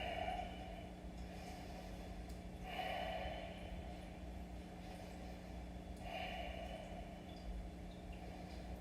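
Slow, deliberate breaths during a gentle yoga session for shoulder and neck tension, with two soft, airy inhale-exhale swells a few seconds apart, quiet and close against a faint steady background hum.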